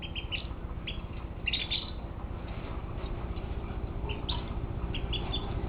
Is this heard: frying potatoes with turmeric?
no